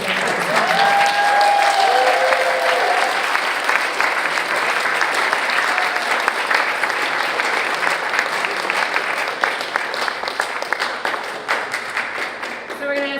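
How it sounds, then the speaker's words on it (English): Sustained applause for a graduating senior class at a school graduation, a broad crowd of clapping that stays strong for over thirteen seconds with a few voices calling out over it early on. "a big round of applause for our amazing senior class"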